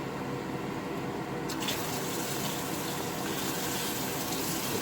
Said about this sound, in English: then you're going to slowly add water